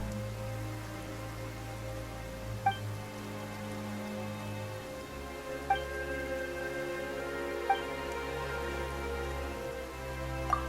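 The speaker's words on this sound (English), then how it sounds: "Why is it raining all of a sudden?" Steady rain falls in the video game Genshin Impact, a continuous even patter with a few soft drip accents, heard alone over a low background music drone with no voices.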